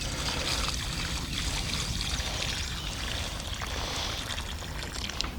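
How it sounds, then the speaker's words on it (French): Water poured generously onto a newly planted bare-root rose, heard as a steady, loud, continuous splashing and trickling stream close by, with no talk. "Donc on n'hésite pas à bien l'arroser."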